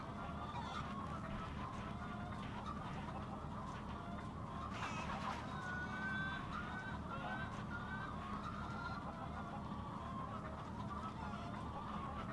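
Chickens cluck and honk in a GTA RP video game, a continuous low, busy fowl chatter under steady game ambience lasting several seconds, fairly quiet and without clear talking.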